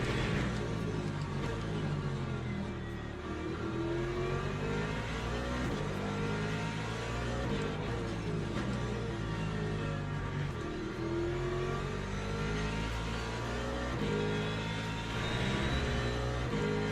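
Ford hypercar engine in a racing video game, a steady loud roar with rising and falling harmonic sweeps as revs climb through gears, continuous for the whole stretch with no voices.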